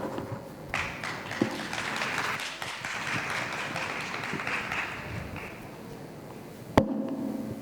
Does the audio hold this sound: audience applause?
yes